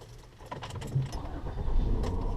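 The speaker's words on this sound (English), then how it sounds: "Start your car." A car engine starts at the exit of an Istobal M18 car wash, its low rumble rising and settling into a steady run, with a brief jangle of keys early on.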